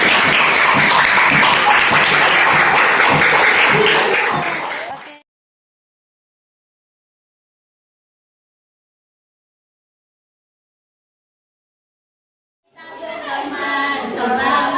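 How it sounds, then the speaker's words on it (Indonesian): An audience claps hands at a school anti-bullying performance: a dense, loud burst of applause for about five seconds, then total silence, then clapping and cheering return faintly near the end. "Tepuk tangan"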